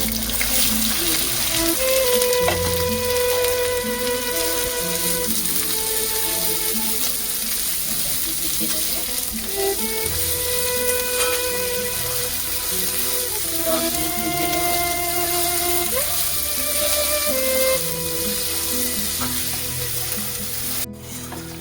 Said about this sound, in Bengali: আমাদের পেঁয়াজটা এবারে ভাজা হয়ে গেছে।